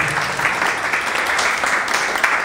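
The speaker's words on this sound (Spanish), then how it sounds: "denle un aplauso a Paco, por favor." An audience at a digital marketing talk breaks into applause, a dense continuous clapping that holds fairly loud and even throughout, with no speech on top.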